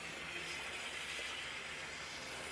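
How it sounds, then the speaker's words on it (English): Continuous steady hiss of a floor steam cleaner running close to the floor, even and unbroken throughout with no talking. "And it's steaming."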